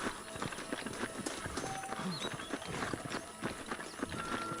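Hoofbeats clip-clop steadily over a busy background, several horses moving at a walk or trot in Red Dead Redemption, fairly close and continuous throughout.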